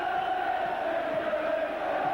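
Capacity stadium crowd at a rain-sodden Easter rugby league derby between St Helens and Wigan, a steady, distant roar with low murmuring and faint calls, no distinct cheers.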